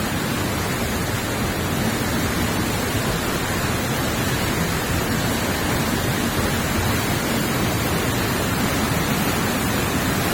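Steady, dense rushing roar of a waterfall inside a lit cave at Riva del Garda by Lake Garda, a continuous broadband wash of falling water holding constant and loud with no voices.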